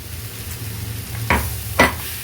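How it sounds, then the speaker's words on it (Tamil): A potato and jackfruit seed curry is stirred in a pan, giving two distinct scraping strokes over a low, steady background hum. "இப்போது உருளைக்கிழங்கு பலாக்கொட்டை எல்லாத்தையும் நம்ம நல்லா கலந்து விட்டுட்டோம்"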